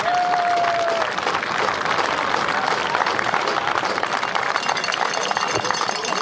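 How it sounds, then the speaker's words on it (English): Steady, dense applause from a crowd cheering both teams at a Canadian youth football game, with clapping running without a break throughout, loud and filling the space, under a brief tone at the start. "a round of applause for both football teams"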